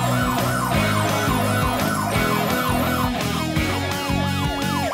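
A drone's loud wailing siren cycles up and down continuously, its rising and falling sweeps dominating over a busy background with no talking.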